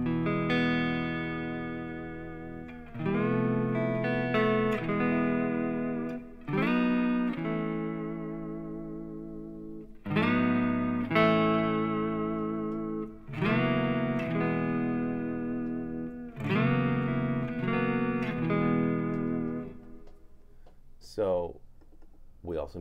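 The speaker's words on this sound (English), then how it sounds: "Put the ducking on, turn the trails on. Here's our delay." An electric guitar through a Line 6 Helix delay set with ducking and trails on plays spaced phrases. Each note rings out and trails off into fading echoes, and the playing is fairly quiet overall.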